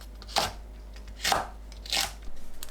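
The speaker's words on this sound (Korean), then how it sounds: "청양고추는 큼직하게 어슷 썰어주세요." A knife slices Cheongyang chili peppers diagonally into large pieces on a cutting board, giving three crisp, separate chops evenly spaced, close and clear with no talking.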